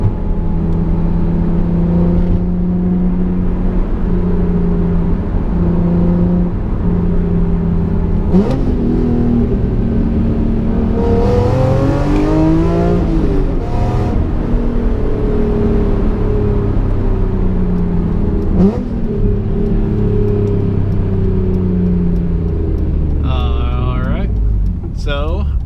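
A BMW E46 M3 pulls away and revs up, its engine note rising and falling through several gear changes with induction noise close to the microphone; someone talks over it at times.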